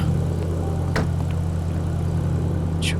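A BMW M4 sports car engine in the video game GTA 5 idles with a steady low rumble, with a couple of brief clicks and a short high swish over the top.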